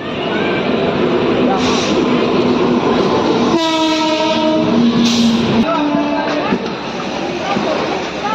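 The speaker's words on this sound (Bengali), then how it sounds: "আমাদের এখন ট্রেন ঢুকছে" A train pulling into a station, with a continuous loud rumble and rolling clatter and a sustained horn blast in the middle, under faint background voices.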